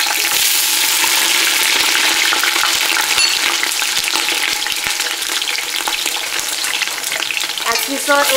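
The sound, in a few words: onion pieces frying in hot oil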